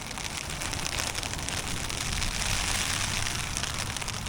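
Slushy hail and rain driven by high winds in Flagstaff, a dense, constant hiss of pelting precipitation close around, steady throughout with no voices.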